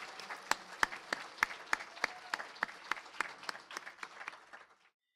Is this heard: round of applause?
yes